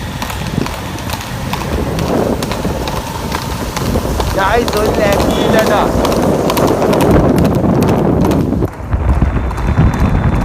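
Hooves of a horse pulling a cart clip-clop steadily at a horse farm, close and continuous under loud wind and frequent talking voices.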